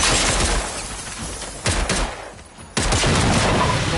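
A submachine gun fires in the video game Generation Zero, sharp loud bursts of rapid shots crackling close, breaking off briefly and then resuming with renewed volleys.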